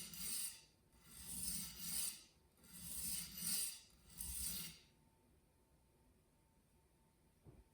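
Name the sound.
sharpening KAI Santoku VG10 knife on waterstone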